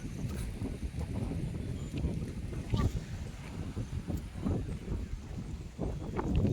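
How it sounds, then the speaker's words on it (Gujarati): Strong wind sweeps across the hilltop at Hastagiri near Palitana, a steady, blustery roar buffeting the microphone throughout with no clear talking. "પવન ફૂલ જો ભાઈ,"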